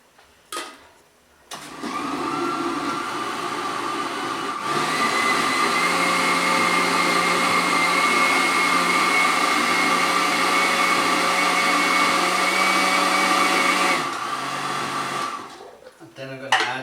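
A food processor purees duck liver with a shallot, garlic and white wine reduction, a loud steady motor whir that starts abruptly, runs about twelve seconds at a constant pitch, then cuts off.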